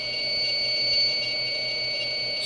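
A power supply's low-voltage alarm emits a steady, loud electronic tone that holds continuously throughout, with no voices.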